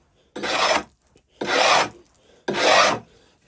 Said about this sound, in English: I'll just do that with a little planer